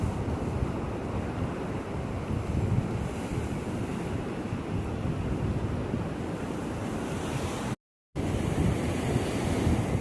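Waves wash continuously onto a beach shore in a dense, roaring surf noise mixed with wind buffeting the microphone, steady and loud for the whole stretch with a brief dropout near the end and no voices.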